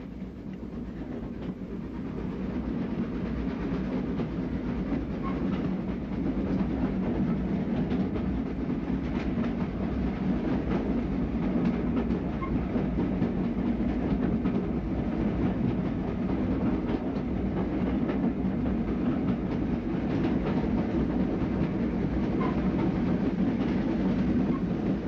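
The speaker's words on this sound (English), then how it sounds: "The locomotive is working a rail tour from London to Brighton in 1957." Vintage Southern steam locomotive hauling ex-LSWR corridor carriages on a London to Brighton rail tour, a steady rumbling train sound with faint rail clatter, continuous and fairly quiet, with no voices.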